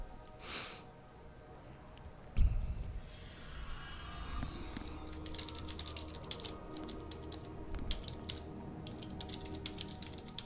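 Rapid, irregular computer-keyboard typing clicks run steadily through a noisy room, fairly close and moderate in volume, with a sharper knock partway in and no talking.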